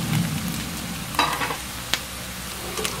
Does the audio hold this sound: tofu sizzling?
yes